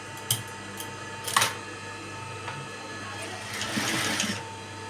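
Sewing machine stitching a patchwork saree blouse, short mechanical whirring bursts close by, with someone talking quietly over it.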